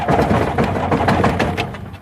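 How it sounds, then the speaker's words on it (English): A Rotax aircraft engine cranks hard without firing, a near, rhythmic starter churning with repeated pulses for about two seconds, never catching. "And that's just hard cranking."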